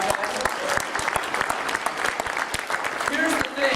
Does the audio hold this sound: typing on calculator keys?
no